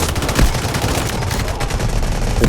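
Dense automatic gunfire and rapid shots from the Delta Force video game keep rattling loudly and continuously through the moment, with a heavier burst near the start.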